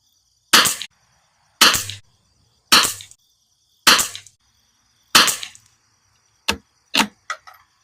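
A rifle fitted with a heavy barrel tuner fires a five-shot group, each sharp loud crack spaced about a second apart, followed by a few lighter clicks and clacks at the end.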